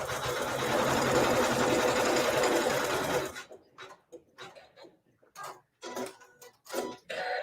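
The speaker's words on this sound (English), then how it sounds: "I'm going to just put those raw edges together and it's going to sew the seam" A sewing machine runs steadily for about three seconds, stitching a quilt seam through raw fabric edges, then stops, leaving only faint rustling and handling sounds.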